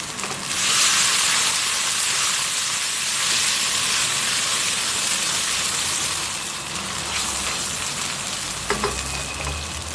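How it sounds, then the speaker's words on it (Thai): Water poured into a hot pan of stir-fried beef and shrimp with stink beans bursts into a loud, steady hiss and crackle of sizzling, easing slightly before a clink near the end. "ใส่น้ำลงไปนะครับ"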